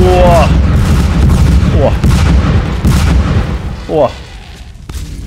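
Gunfire and explosions in the Beast Battle Simulator video game, a loud continuous barrage of booms and rattling shots filling the whole stretch, with a player exclaiming over it.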